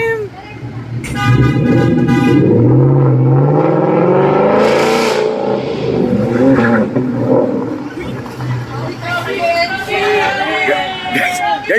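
Cars rev and accelerate hard at a street race, engines roaring close by with horn toots and crowd chatter, while people talk over the noise.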